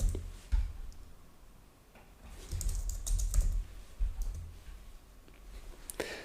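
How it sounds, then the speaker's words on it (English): Computer keyboard typing during software work, a run of quick, fairly close clicks in irregular bursts with brief pauses, mostly on its own at moderate level. "typing in tunnel"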